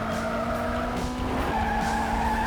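Sustained tire squeal of a car skidding in the video game Gas Guzzlers Extreme, a tonal screech over engine noise, continuous and fairly loud, with game-like sound effects.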